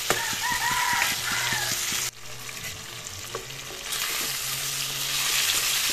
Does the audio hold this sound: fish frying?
yes